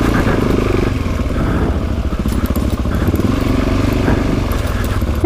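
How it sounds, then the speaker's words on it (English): A motorcycle engine running off throttle at elevated revs on a forest loop road, a loud close rumbling idle with a rapid metallic clinking rattle running continuously through it. "when I let off the throttle and the engine's at RPMs, it's clinking"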